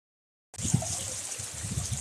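Water trickles and gurgles over rocks at Rhododendron Lake, a steady, close babble of running water that starts after a half-second of silence and continues alone.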